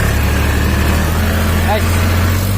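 Steady tractor engine idling with a low continuous rumble throughout, close by, while people talk over it.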